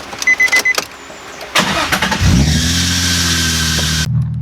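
A few clicks and clunks, then the engine of an engine-swapped Nissan 350Z cranks and catches, settling into a loud, steady idle close by.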